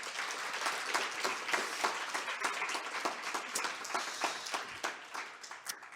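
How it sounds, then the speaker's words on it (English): Steady audience applause at a conference session on gender equality, honoring a woman; dense, even clapping from a seated crowd, moderately loud and tapering slightly at the end. "I think she would be pleased and be smiling if we give her a round of applause"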